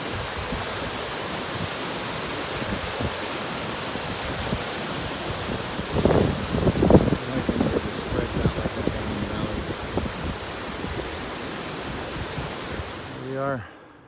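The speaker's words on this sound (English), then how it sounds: "thought I'd stop, get a little bit of this waterfall right there." A mountain waterfall near Ediza Lake roars as a steady, dense rush of water, with brief bumps of handling or wind noise midway through.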